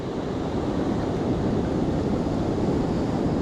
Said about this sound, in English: the waves keep coming in